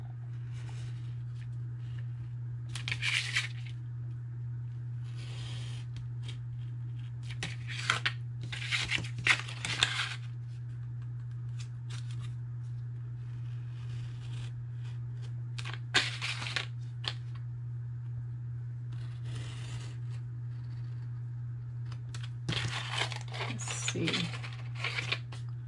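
Paper being trimmed for a boxed card set, with scattered short crisp cutting and rustling sounds over a constant low electrical hum, under quiet talk.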